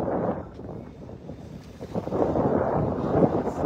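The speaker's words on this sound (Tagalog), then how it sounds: "Naririnig niyo po yung ampas ng hangin. Napakalakas." Strong wind roars steadily into the microphone, a constant rumbling buffet that swells slightly toward the end, with no other clear sounds.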